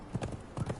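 Horse hooves clip-clop in the game Conan Exiles, a quick, even run of soft thuds from a horse moving at a steady pace, fairly quiet and alone.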